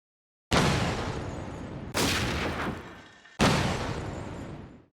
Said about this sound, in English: each time an enemy is destroyed, it creates a unique explosion sound that doesn't repeat